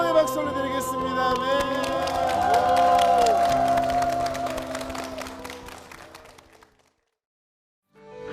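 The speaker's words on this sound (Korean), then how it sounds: "주님께 영광의 박수 올려드리겠습니다." Applause and cheering from a church congregation swell under music and then fade out, ending in near silence.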